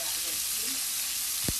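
A T-bone steak sizzles in a pan as it cooks, a steady close hiss of frying fat with a brief soft knock near the end.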